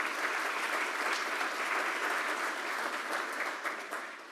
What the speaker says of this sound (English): I want to give them a round of applause as well